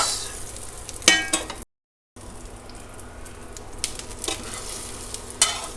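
Beaten egg for a crab omelette sizzles steadily in a cast iron skillet as a utensil pulls in the sides, giving occasional scraping clicks and brief sharper stirs, with a short dropout midway and no talking.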